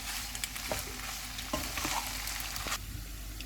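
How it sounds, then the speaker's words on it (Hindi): Spicy chicken pasta cooks in a pan over a very low flame, giving a steady close sizzle with occasional scraping stirs of a spoon through the sauce. "बहुत ही कम आंच में मैं इसको 1 से 2 मिनट तक पकाऊंगी"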